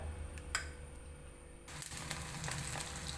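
Pieces of banana coated in batter drop into hot oil, and a faint steady hiss turns into a fuller, louder sizzle as the frying picks up. A couple of soft clinks are heard before it.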